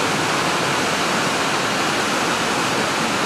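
Water flows from a spring well in a village setting, a dense, loud, steady rushing like a small waterfall, continuous throughout and close, with no talking.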